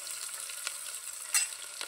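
Chopped tomatoes and chillies fry in a pan for masala rice, a bright steady sizzle with a couple of quick stirring scrapes.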